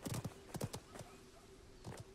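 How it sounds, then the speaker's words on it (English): Game horse hooves from Realm Royale clop in short, faint bursts, a few quick strikes apart with pauses between, set in a quiet background. "All I hear is horses."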